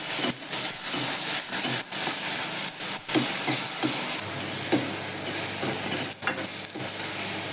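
Tomatoes sizzling in a hot pan with curry leaves and onion while a spoon stirs and scrapes, giving a continuous close frying hiss broken by repeated clacks and scrapes, with no talk.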